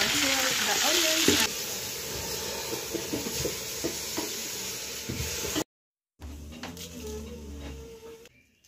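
Onions frying in a cooking pot in an African village kitchen, a steady close sizzle with stirring scrapes and clatter, briefly cutting out before resuming.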